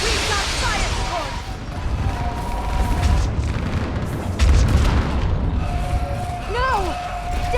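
Deep booming explosions of fire support in a Mass Effect 3 battle on a building, rolling under steady combat noise, with characters talking over the blasts.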